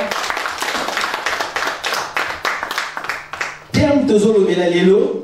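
Congregation clapping hands in rhythm during a church service, steady repeated claps for about four seconds before a singing or chanting voice takes over.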